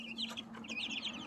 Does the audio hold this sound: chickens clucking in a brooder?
yes